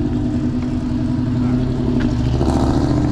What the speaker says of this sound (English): Here comes another car, so we'll wait just a minute and let them pass.